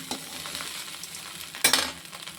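Coconut rice is stirred in a pan over low sizzling, with soft, quiet scraping strokes and one louder scrape near the end.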